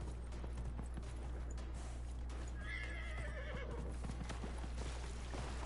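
A horse whinnies with a rising, wavering call amid a constant, dense clatter of hooves and game ambience in Dragon Age: Inquisition, loud and steady throughout.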